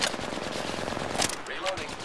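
Rapid automatic gunfire from the shooter game Apex Legends crackles in dense bursts, loud and close, with a sharper shot standing out near the end.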